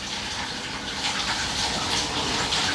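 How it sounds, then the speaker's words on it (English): Water runs steadily from a tap in the background, a continuous rushing hiss that holds at an even level with no talking over it. "It's still running water back there."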